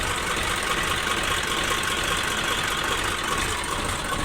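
Tractor engines idle at the Lalpur marketing yard during the groundnut trade, a steady, close mechanical rumble with a constant knock running unbroken the whole time, no voices.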